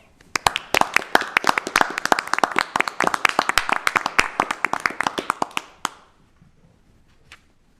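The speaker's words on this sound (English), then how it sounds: "Let's give our Main Street champion a big round of applause." Audience applause at a town board of commissioners meeting, a small group clapping briskly and unevenly for about six seconds before stopping abruptly, leaving near silence with one faint tap.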